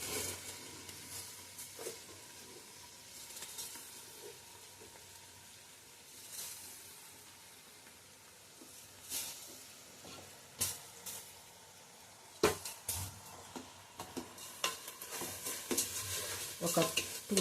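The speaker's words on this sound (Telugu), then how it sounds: "ఒక 2-3 మినిట్స్ ఈ బియ్యం ఆయిల్లో మగ్గనియాలి మంచిగా" Soaked rice fries in oil in a pan for bagara rice, giving a soft steady sizzle with scraping stir strokes and louder clanks toward the end, no talking.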